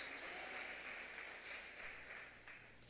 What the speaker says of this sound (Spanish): Dele un aplauso a Dios, vamos.